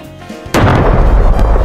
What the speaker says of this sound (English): you can also call in an airstrike